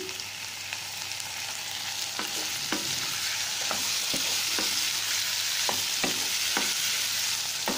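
A single small tomato sautéing with whole garam masala in a hot pan gives a steady close sizzle, punctuated by sharp scraping taps from regular stirring throughout.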